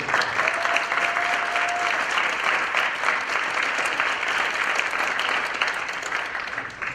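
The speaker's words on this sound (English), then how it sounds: "Let's give a round of applause for all our members and inductees this evening" A large audience claps steadily and enthusiastically at a high school National Honor Society induction ceremony, a dense wash of applause that holds at full strength for several seconds before easing slightly.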